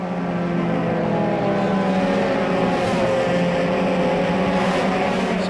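Euro Formula Open race cars at Monza during qualifying, engines droning and rising as the drivers apply throttle, a loud continuous mechanical roar filling the whole stretch with no voices.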